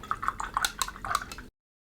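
A watercolour paintbrush is swished in a water jar to rinse it. Quick splashy clinks and light tapping against the container repeat at close range for about a second and a half, then stop abruptly.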